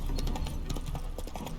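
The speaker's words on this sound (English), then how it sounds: "Spooking my horse." Hooves of Roach, Geralt's horse in The Witcher 3 Hearts of Stone, clip-clop in a steady, close rhythm over a low ambient background.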